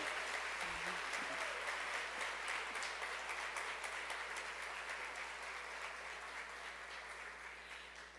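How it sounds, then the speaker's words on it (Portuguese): An audience at the national launch of the 11th Prêmio Itaú-Unicef gives a round of applause, a sustained rattle of many hands heard from some distance that slowly tapers and thins toward the end. "Então, eu acho justo a gente pedir uma salva de palmas para a gente, né?"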